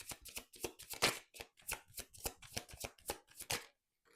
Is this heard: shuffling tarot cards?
yes